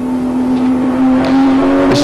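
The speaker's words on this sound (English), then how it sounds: "This is where the GTR is so fast, coming out of this corner" A Nissan Skyline GT-R race car in Forza 5 powers out of a corner, its engine holding a loud, steady high drone that swells slightly as it accelerates, close and alone.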